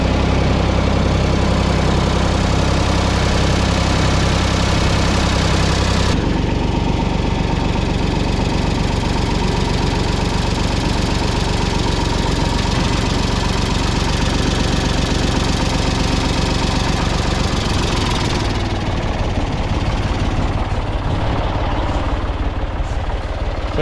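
A tractor engine runs loud and close, grinding and labouring under strain while its bucket lifts and drags a heavy load, the pitch dropping as the load increases, continuous throughout with no talk.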